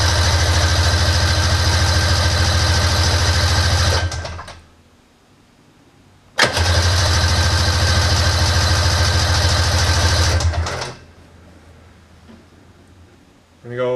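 A 1999 engine with repaired carburetors runs at a loud steady idle, cuts out, restarts with a sharp catch and idles again before stopping, with a brief crank at the end.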